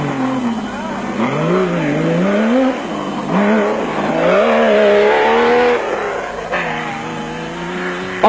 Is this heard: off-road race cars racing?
yes